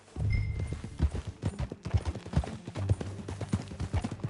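Horse hooves clip-clop in a steady riding rhythm in Red Dead Redemption 2, with close, distinct hoofbeats over a low hum and a brief tonal whine near the start.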